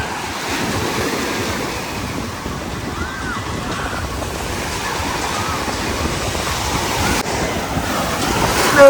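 A rough sea in Greece sends waves crashing onto the shore in a loud continuous roar, buffeted by heavy wind noise on the microphone.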